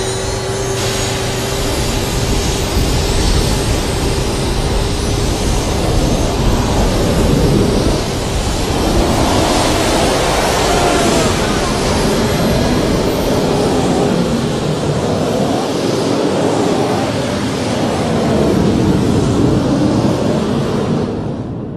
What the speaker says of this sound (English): replaced it with jet engines from MiG-21 fighter planes. Water is injected into the jet stream. Then they just open the throttles and blow the fire out.